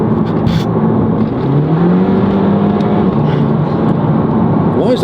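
An Audi TT in sport mode accelerates hard, its engine droning loud and close from inside the cabin with a rising tone and a gear change, with no talk over it.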